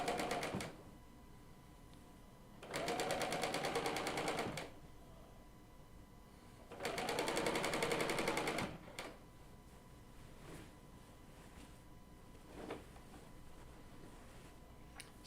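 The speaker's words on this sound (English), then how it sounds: "I'm going to stitch down by opening it up about 6 inches" A Bernina L890 serger stitches fabric in two loud bursts of steady whirring, each about two seconds long, separated by quiet pauses with a few faint handling clicks.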